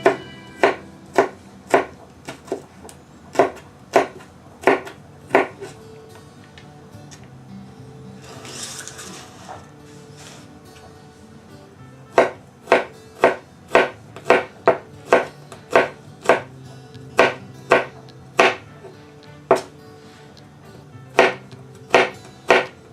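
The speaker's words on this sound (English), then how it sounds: "we're just gonna kind of slice that up a little bit, like so" Steady rhythmic knife chops on a cutting board while slicing vegetables for sage dressing, sharp close taps in quick bursts with a brief pause midway, no talk.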